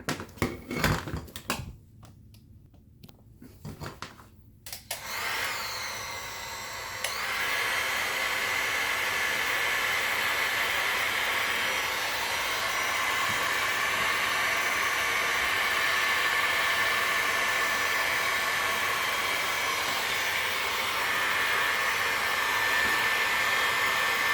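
Heat gun warming peel-and-stick vinyl floor tile, beginning with a few clatters and handling knocks before a steady, loud blowing whoosh starts and runs continuously to the end, close by.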